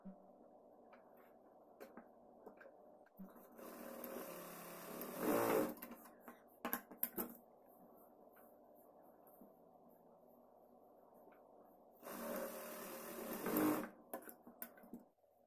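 A sewing machine stitches darts on a padded blouse in two bursts of running motor whir, each a few seconds long, separated by quiet with faint handling noises; no one talks.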